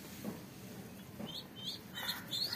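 A pigeon chick begging for food in a breeding cage gives a few faint, thin high cheeps, closer together toward the end, against a quiet background.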